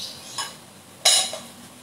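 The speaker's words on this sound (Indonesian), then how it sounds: "Nah, ini kita kocok lepas." A whisk taps against a bowl while beating milk and two eggs together for a gluten-free tuna pie filling. Two brief clinks, a soft one and then a sharper, brighter one, sound close up in a quiet kitchen.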